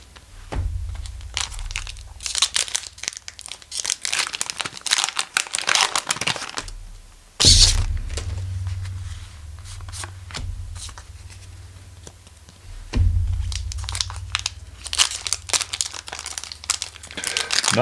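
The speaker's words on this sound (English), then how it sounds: "Not very good at opening these packs cleanly today." Trading card booster pack wrappers are torn open in repeated bursts of crinkling, crackling and ripping. The sound is close and fairly loud, with brief pauses between the packs.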